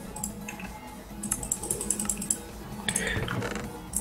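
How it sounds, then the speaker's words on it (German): Computer keyboard and mouse clicks during a Minecraft Tekkit gaming session: rapid, irregular close-up taps and clicks coming in bursts with short pauses, with no voices. "Du klickst so, weißt du so."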